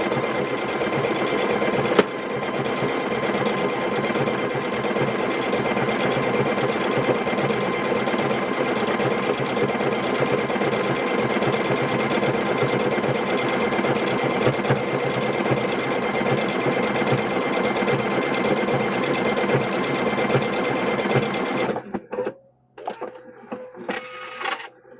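A sewing machine runs steadily, stitching a decorative pattern onto a kitchen hand towel, a continuous close whirring hum lasting about twenty seconds before it stops and leaves a few faint clicks and handling sounds.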